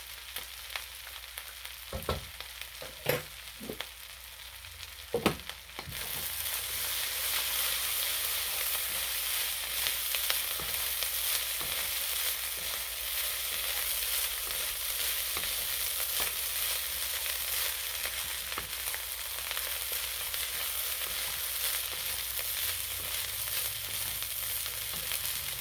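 Spam fried rice in a pan, a few sharp knocks and scrapes of stirring, then a loud, steady sizzle of frying that continues unbroken to the end, with no talking.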